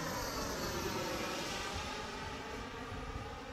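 Small Mini Avanti model jet's turbine engine running with steady broadband roar and whine, continuous and fairly loud throughout, easing slightly toward the end as the throttle is worked, with no voices.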